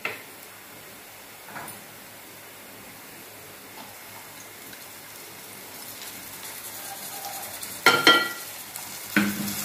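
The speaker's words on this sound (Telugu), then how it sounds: "ఇది కూడా 5 నిమిషాలు బాగా వేయించాలి." Onions, green chillies and ginger-garlic paste fry in a pan for a mushroom curry, giving a quiet, steady sizzle with a few louder stirring scrapes and clatters toward the end.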